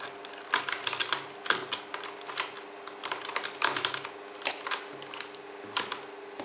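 Keys on a blue-switch mechanical keyboard clicked and tapped in irregular bursts, sharp close clacks separated by short pauses over a faint steady hum.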